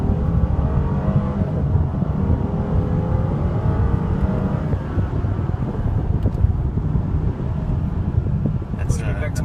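A Mercedes-Benz SL550 roadster accelerates hard from a standstill, its engine rising in a steady climbing drone heard from inside the car with wind noise, while the occupants talk.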